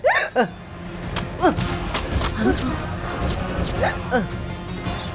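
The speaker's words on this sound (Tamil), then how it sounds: "ஏன் இப்படி விக்கிட்டே இருக்கீங்க?" An older woman hiccups repeatedly in a Tamil television drama scene, with sharp little catches of breath at irregular intervals over steady background noise, and people talk around them.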